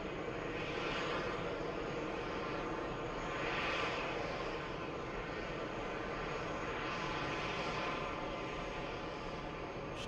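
A Lufthansa Airbus A340-300 arrives from Frankfurt at Los Angeles, a continuous moderate engine drone with gentle swells of whine, heard alone without talk.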